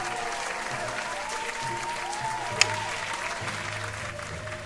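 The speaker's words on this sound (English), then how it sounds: "here's a round of applause to you" A steady round of applause from a crowd, even and continuous throughout at moderate loudness, with one sharp click partway through and no voices on top.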